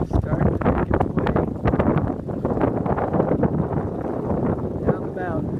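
Wind gusts buffet the microphone on an exposed mountain trail near the North Inlet stream in Rocky Mountain National Park, making a steady, loud, close rumbling roar with rough flutter throughout.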